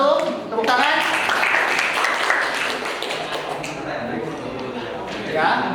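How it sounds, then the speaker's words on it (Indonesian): Classroom audience claps for group one after a mechanical engineering teaching practice, a brief burst of applause mixed with voices and chatter that fades to talk. "Tepuk tangan."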